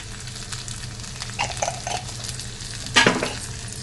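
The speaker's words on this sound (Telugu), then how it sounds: "చూసారా, ఇప్పుడు ఇలా వేయించుకుంటే సరిపోతుంది." Sliced onions frying with a quarter tablespoon of turmeric in a pan for amaranth leaf curry, a steady soft sizzle under light stirring scrapes, with one louder clatter of a spoon against the pan near the end.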